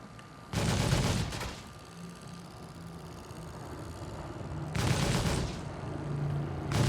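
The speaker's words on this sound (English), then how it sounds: "She's firing at my ship." Rapid gunfire hits a ship in the space game Star Citizen in two loud sustained bursts with a quieter humming engine drone between them.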